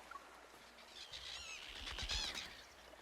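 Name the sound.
seagulls calling by the sea in a video game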